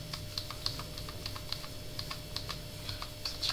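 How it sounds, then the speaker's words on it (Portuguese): Fast, steady clatter of computer keyboard typing during a Minecraft Sky Wars game, keys pressed in quick irregular succession over a faint low background hum. "teclado fazendo um barulho do caralho."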